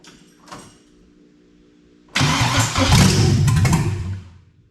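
A carbureted LS V8 cranks and fires up abruptly, then runs loud and rough close by for a couple of seconds before dying away, after a few faint clicks.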